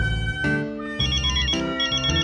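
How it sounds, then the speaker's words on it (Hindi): A phone ringtone plays a short, bright electronic melody of repeating tones, loud and close, with no voices. "अरे अंजलि का फोन।"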